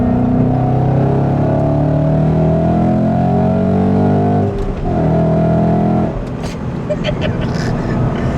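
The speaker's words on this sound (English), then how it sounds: "I think Junior made the right choice putting this Ford Racing exhaust on it because it sounds awesome." A supercharged 2015 Ford Mustang GT with a Ford Racing exhaust roars loudly and steadily close by, its deep exhaust note shifting in pitch as it revs before settling.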